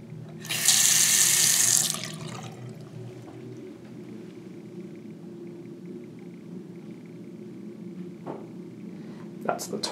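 Water runs from a hotel bathroom sink faucet in a loud hissing gush for about a second, then stops, leaving a quiet room hum with faint clicks.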